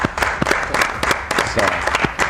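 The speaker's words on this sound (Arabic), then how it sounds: "صفقوا يا جماعه." People gathered in a majlis applaud together, a loud, close burst of clapping with some voices mixed in.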